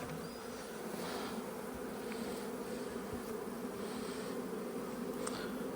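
Honeybees buzzing at an open hive during an apiary inspection, a steady, close, droning hum that holds evenly throughout with no voices.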